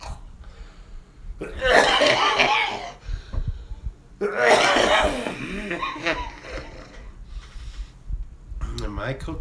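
A person lets out two loud, harsh, rasping coughing fits in close succession, each lasting a couple of seconds, followed by a shorter burst near the end.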